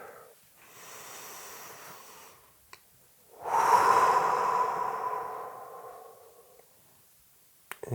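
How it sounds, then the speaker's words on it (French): A slow, deep inhalation during a relaxation session in a hotel room, preceded by a softer breath; the long airy intake swells loudly up close, then fades, alone without talk. "J'inspire profondément."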